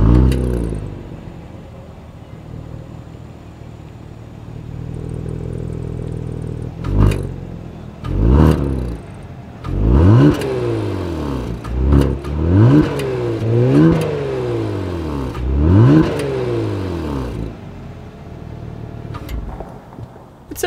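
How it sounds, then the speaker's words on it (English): Exhaust of a 2022 Kia Stinger GT being revved while parked, with an idling rumble first and then a series of five or six sharp, rising and falling revs that bark loudly and close by, with no talking. "As always, here is that exhaust clip."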